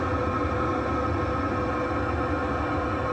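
A diesel parking heater's exhaust runs under a converted shuttle bus: a steady, close mechanical drone with a low rumbling exhaust, constant and unchanging, no voices.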